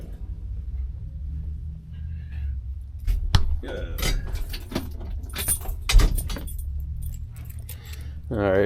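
Metal keys for a 1960 Chevrolet Impala jangle and clink on a ring in several bursts, close by, with a person talking over parts of it and a door-like thud.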